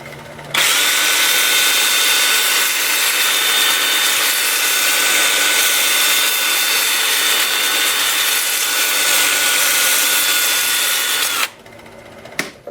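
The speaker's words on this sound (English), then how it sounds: "I'm going to have it spinning at 300 RPM with my 2-inch sanding disc, starting at 80 grit and working up through 400." A 2-inch sanding disc with 80 grit grinds a big gnarly wood burl spinning at 300 RPM on a lathe, a loud, steady, raspy whir that starts abruptly, runs unbroken for about eleven seconds, then cuts off.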